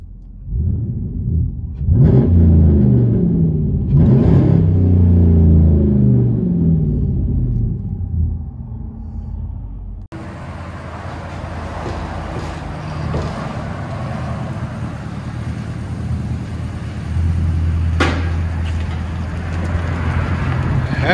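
A 2017 RAM 1500 with a 5.7L HEMI V8 and true dual straight-pipe exhaust, its deep loud rumble swelling in two sharp revs up close, then a steadier idling drone with wind noise and another rise near the end.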